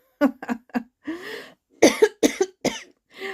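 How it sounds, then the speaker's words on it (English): Several sharp coughs in quick bursts, a few short hacks followed by a longer rough one, then more coughing and throat clearing, close and fairly loud. "Spirit's making me cough."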